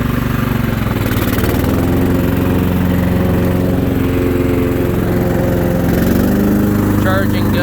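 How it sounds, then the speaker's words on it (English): A Craftsman LT1000 riding lawn mower with a 13 hp Kohler Command engine runs with its deck engaged, giving a steady, loud mid-low engine drone throughout. Someone talks over it. "Pretty high deck velocity, and it's pretty quiet, so nice little mower."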